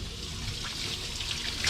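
Water runs steadily through newly plumbed pipes in an RV, a continuous close hiss and trickle with no talk.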